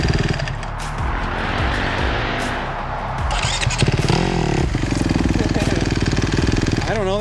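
A Kawasaki KX250X dirt bike engine idles and is clicked into first gear, then blips and revs sharply as if launching off a starting line, close and loud, with people talking over parts of it.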